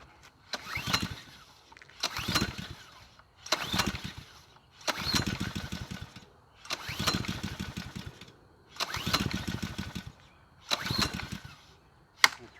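A Honda GCV190 engine on a Ryobi pressure washer, with old fuel left in it, is pull-started again and again without catching: six or seven loud, evenly spaced rope-pull cranking bursts, each about a second long, separated by short pauses.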